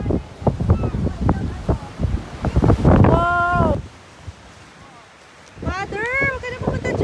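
Wind gusting at the Seaford white cliffs on the English coast, a broad rushing roar under talk and exclamations, dropping away briefly before talk resumes with birds calling.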